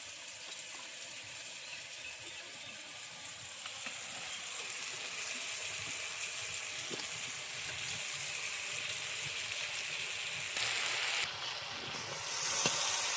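Chicken chow mein sizzles and hisses steadily in a hot pan, a continuous frying sound that stays at an even level without any talk and swells a little louder near the end.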